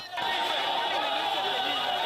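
Crowds gathering along the road to Mbara Central Market, a dense, steady wash of chatter and cheering voices that holds loud and continuous throughout.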